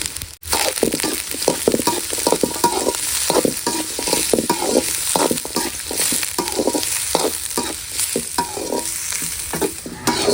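Curry leaves with small sambar onions and large onions frying in a pan of hot oil, giving a loud continuous sizzle with busy stirring scrapes and crackles throughout, without talk.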